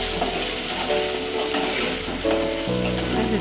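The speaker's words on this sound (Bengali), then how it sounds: "চিংড়ি মাছগুলো দিয়ে তেলে একটু ভেজে" Prawns frying in hot oil in a pan while making a kochur loti dish, a loud, steady, close sizzle with a few soft stirring scrapes and no talking.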